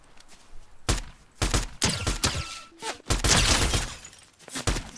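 Gunfire in an end-game video game match, loud rapid bursts of shots and impacts in clusters, some single cracks and some sustained volleys, close and dominant with no talk.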